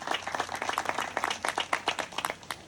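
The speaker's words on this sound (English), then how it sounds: "Let's give him another round of applause." Audience applause at a preservation awards ceremony, a short burst of distinct, fairly close hand claps in an irregular rhythm, tapering toward the end.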